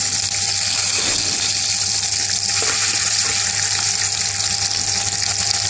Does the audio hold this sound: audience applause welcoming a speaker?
no